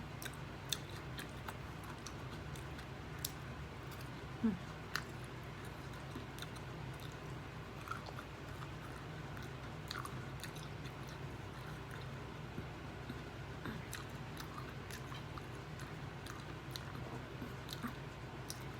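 Soft, close chewing and wet squishing while eating a Thai rice noodle dish in spicy curry broth with chicken feet, a quiet continuous stream of small bites and mouth sounds with faint clicks and no talk.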